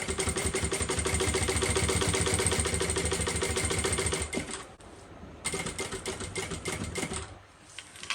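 A sewing machine runs in long steady bursts as it bastes a seam along the side of a Bella bucket bag, with a loud even whirring rattle, a short pause and then more stitching, with no talking.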